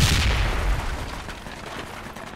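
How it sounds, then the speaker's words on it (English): PKM machine-gun fire in the Project Reality war game opens with a loud close boom that decays into a rolling echo, with faint scattered shots trailing off in the distance. "PKM? That the techie gunner? PKM."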